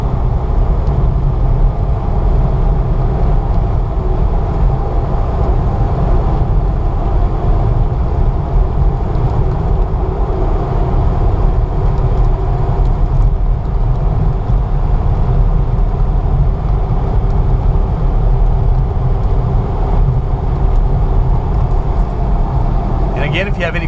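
A lifted, modified 2005 Jeep Wrangler Sport driving with four-wheel drive, its engine and road noise a loud, steady low drone throughout while someone talks over it; gear shifts are not clearly distinct.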